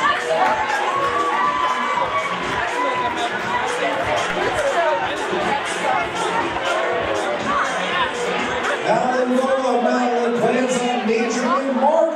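An audience at a high school Project Graduation fashion show fundraiser cheers and claps, with loud whoops, shouts and lively chatter rising and falling throughout, swelling toward the end.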